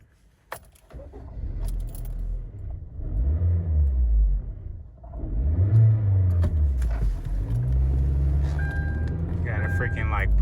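An auction vehicle's engine cranks, catches and revs in rising and falling surges, then drops away as it cuts off and restarts, loud and close with a brief jangle of keys.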